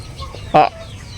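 A single short gobble call from a turkey rings out near, over quiet background noise.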